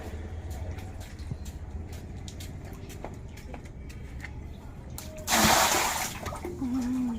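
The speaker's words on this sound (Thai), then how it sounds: "น้ำกำลังเริ่มไหลออกไปนะคะ" Water drains out of a frog-rearing pond during cleaning: a steady low wash, then a loud rushing gush near the end, close by with no talk.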